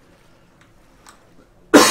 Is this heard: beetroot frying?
no